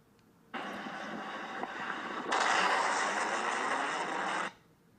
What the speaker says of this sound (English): That was the sound of a sonic boom made by the plane as it broke through the sound barrier.